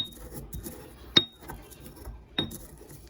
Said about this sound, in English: The rosemary, I put it in my mortar and pestle, and I'm just smashing it so that the aromatics will get released.